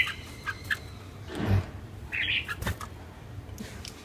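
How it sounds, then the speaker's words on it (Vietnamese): A red-whiskered bulbul flaps its wings in short bursts as it is driven around, with a few quick chirps and squawks and soft rustling between flurries; no talking. "các bác có thể lùa con chim như này nhá"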